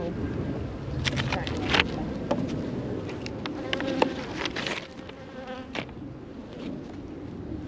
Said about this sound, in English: we've got bees all over these ones